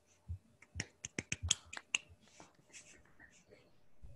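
Scattered sparse claps from participants on an online math lecture video call, a dozen or so separate sharp claps in quick irregular succession, fairly quiet, fading out with faint murmuring.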